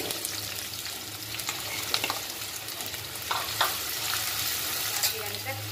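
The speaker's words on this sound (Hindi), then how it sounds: "दो बड़े चम्मच तेल गरम करने रखी हूँ, इसमें दो कांदा काटा हुआ डाल रही हूँ" Chopped onions frying in two spoonfuls of hot oil with cumin and turmeric, a steady close sizzle with occasional stirring scrapes and light clinks, no voice over it.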